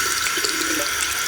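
A bathroom tap runs warm water into a sink while someone washes their face, a loud, close, continuous rushing splash with no speech.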